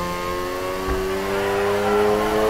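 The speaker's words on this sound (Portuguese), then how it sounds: "Steer to the corner, hit the gas for more slide." A Mazda RX-7 in the racing game Need for Speed Heat revs hard while drifting, a loud sustained engine whine that climbs in pitch with a brief tire scrub, close and alone.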